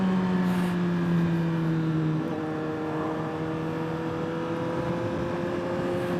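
Steady engine drone from cars and a motorcycle doing burnouts nearby, a sustained roar with shifting tones and no talking.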